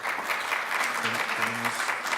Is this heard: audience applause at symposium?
yes